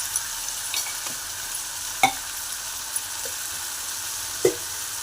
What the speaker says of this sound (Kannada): ಈಗ ಇದಕ್ಕೇ ಸ್ವಲ್ಪ ಅರಿಶಿನ ಉಪ್ಪು ಹಾಕ್ಕೊಂಡು ಫ್ರೈ ಮಾಡ್ಕೊಳ್ಳೋಣ.